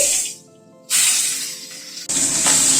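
Fish dropped into hot mustard oil in a kadai sizzle loudly, a sharp spray-like hiss bursting in, dipping briefly, then surging again near and steady.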